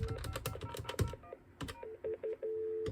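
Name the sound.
DTMF telephone dialing *72 to forward calls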